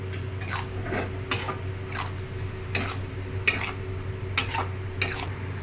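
An egg tadka mixture with spices sizzles gently in a pan while a spatula scrapes and knocks against the metal in regular strokes, close and steady over a low hum.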